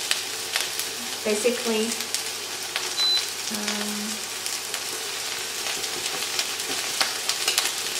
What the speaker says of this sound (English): You want to cook the onions until they're golden brown, soft.